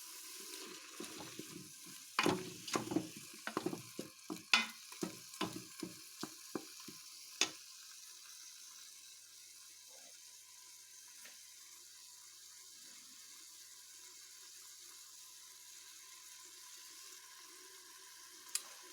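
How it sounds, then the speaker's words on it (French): Bacon lardons and onions frying in a Cookeo multicooker for beef bourguignon, with stirring clatter and scraping early on, then a steady quiet sizzle continuing alone. "on va attendre gentiment que les lardons, les oignons dorent avant d'y ajouter la viande"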